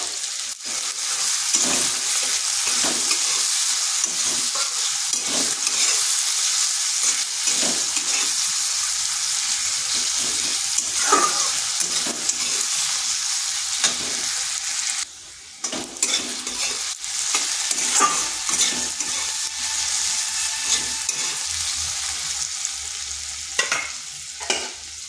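Small-cut potatoes and leafy greens frying in a pan, with a continuous close sizzle and repeated scraping stirs throughout, broken by a brief pause midway, no voices.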